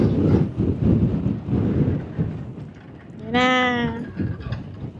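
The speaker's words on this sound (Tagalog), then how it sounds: "Sobrang lakas ng hangin." Strong wind gusts buffet the microphone on a hiking trail, rumbling in heavy bursts while people talk nearby.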